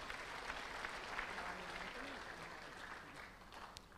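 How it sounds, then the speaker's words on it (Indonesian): A church congregation applauds at a Christmas and New Year celebration marking a logo launch, a sustained, moderately quiet patter of many hands that fades gradually. "Berikan sorak-sorak untuk Tuhan."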